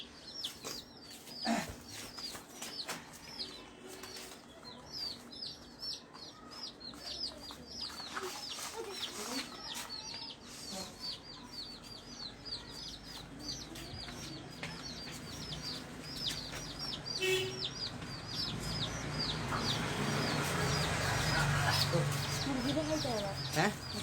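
Colourfully dyed chicks cheeping in a busy, continuous chorus of high peeps, close and fairly loud, with adult chicken clucks and people talking over them.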